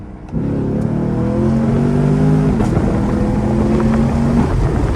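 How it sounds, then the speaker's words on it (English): A Camaro SS accelerates hard with the gas pedal punched, its engine note rising loud and close and holding a strong, climbing drone for several seconds with no talking. "what you can do is punch it, and then as soon as you press that gas pedal down, okay, throw it back into drive mode"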